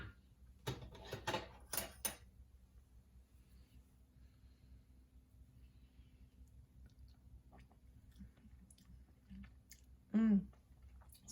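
Quiet, close chewing and mouth sounds while tasting a forkful of lamb korma in a kitchen, a few soft wet bites early on, then near silence and a brief louder sound near the end.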